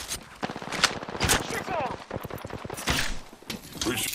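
Rapid automatic gunfire from Apex Legends rattles in dense bursts through most of the stretch, mixed with game effects and a voice talking over it.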